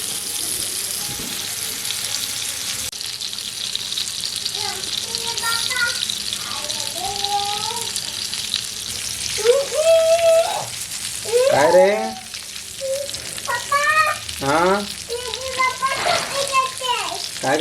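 Large pieces of surmai fish fry in hot oil with a steady, loud sizzling hiss, while several people talk over the cooking noise.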